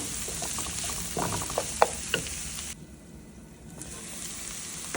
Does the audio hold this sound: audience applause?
no